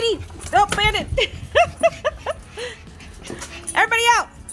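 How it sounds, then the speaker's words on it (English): Several dogs inside a car bark, yip and whimper in quick excited bursts, close and fairly loud, with people talking among them. "How many dogs are here?"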